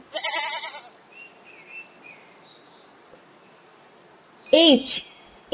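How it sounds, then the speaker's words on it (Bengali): A goat gives one wavering, quavering bleat at the start, up close and clear, followed by soft chirping in a quiet gap and then a loud swooping sound effect. "ঘাস পেলে ছাগল খুশি।"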